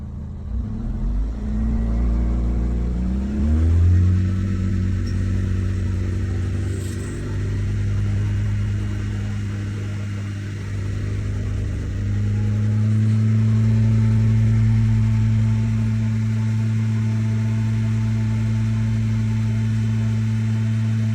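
A 2006–2011 Honda Civic engine idles, then revs up to a steady higher pitch, drops back, and is revved again and held, a loud continuous mid-range drone close by with no talking.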